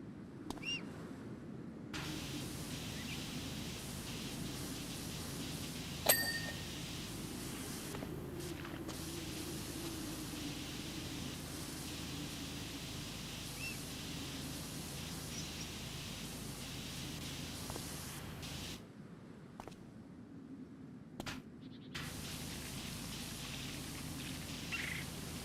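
Steady, continuous hiss of a pressure washer spraying in PowerWash Simulator, running loud and unbroken for most of the stretch with a couple of brief cut-outs near the end, no talk over it.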